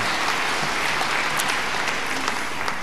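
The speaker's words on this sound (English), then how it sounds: "you can applaud that" Audience applause at an archaeology talk, a dense, steady wash of clapping from a crowd that fills the whole moment without a break.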